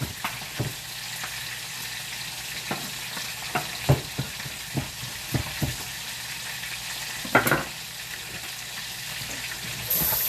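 Chicken frying in oil in a pan, a steady close sizzle with irregular clicks and scrapes as pieces are moved and stirred.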